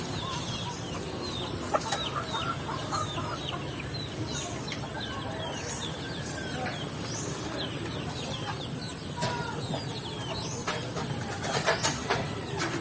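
Rhode Island hen clucking among other chickens in a native chicken yard, repeated soft clucks and bird calls over steady background murmur, no talk.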